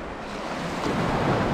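Ocean surf breaks in shallow water at a beach in Puerto Peñasco, a loud, continuous washing roar that swells toward the end, mixed with wind buffeting the microphone.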